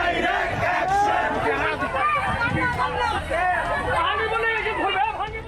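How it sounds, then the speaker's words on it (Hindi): A large crowd on a street in Comilla, Bangladesh, chants and shouts a political slogan, a dense, continuous roar of many voices with rhythmic rises and falls throughout. "यहाँ भी भीड़ खुलेआम डायरेक्ट एक्शन का नारा बुलंद कर रही है"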